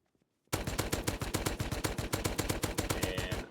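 Rapid automatic fire from a Thompson submachine gun in the survival game Rust, a steady burst of about thirty close, loud shots starting abruptly and continuing without pause to the end.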